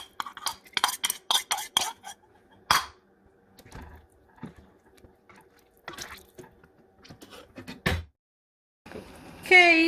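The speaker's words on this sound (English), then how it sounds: "now I'm gonna add the chipotles to this one, the big pot" Chipotles go into a big pot of Mexican meatball soup: a quick series of clinks and spoon taps against metal, soft splashes and stirring, close and intermittent with quiet gaps between.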